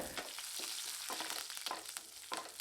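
Cashews, dried red chillies and curry leaves roast in a pan with a steady, close sizzle, broken by a few stirring scrapes.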